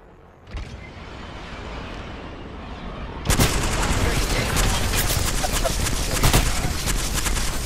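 Video game gunfire in Apex Legends: a sharp shot near 0.6 s, then from about 3.3 s a loud, dense burst of rapid automatic fire with repeated cracks that continues to the end.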